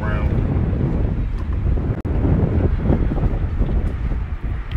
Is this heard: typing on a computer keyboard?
no